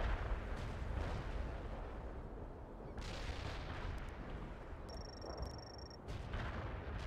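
Heavy airstrike explosions in the war strategy game World in Conflict, with dense, continuous rumbling booms and blasts layered over one another throughout, loud and close, and a faint electronic tone briefly audible partway through.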